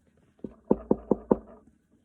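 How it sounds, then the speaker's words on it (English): Four sharp, evenly spaced knocks on a front door, close and fairly loud, with no voices around them. "There was a knock on the front door."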